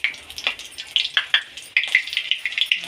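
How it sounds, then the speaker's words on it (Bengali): Whole cumin, cardamom, cinnamon and a dried red chili fry in hot oil in a wok, producing close, crackling pops and spits that come in quick irregular bursts over a soft sizzle, with no talk. "কড়াইতে তেল দিয়েছি, দেব গোটা জিরে, এলাচ, দারচিনি,"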